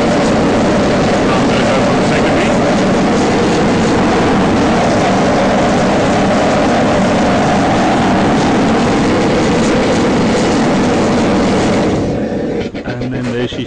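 A Black Dragon MK II Damascus forge burner roars loud and steady at full open, a broad continuous rushing blast that holds evenly before cutting down abruptly near the end.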